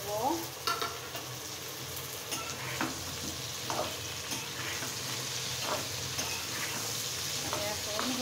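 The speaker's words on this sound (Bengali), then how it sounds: "আমি এখন বেগুন আর আলুটাও দিয়ে দেবো," Eggplant and potato are being fried with garlic, cumin and green chili in a pan. The oil sizzles steadily and close, broken by repeated scraping stirs of the spatula, with no voices.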